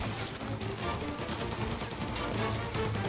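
Gunfire in the video game Mafia: Definitive Edition, a dense, continuous barrage of shots that keeps up without a break and stays loud and close throughout.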